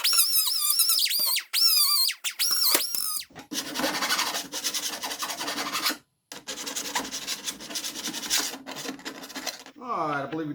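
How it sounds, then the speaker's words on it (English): Edges of a freshly cut hole in the rear window channel of a Mercedes W126 body being deburred, repeated close rasping strokes in bursts with short gaps, plus sharp squeals at the start and end. "All right, I believe we got that deburred. Take all the sharp corners off."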